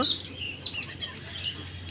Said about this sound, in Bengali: পাখির বিচির শব্দ কোকিলের শব্দ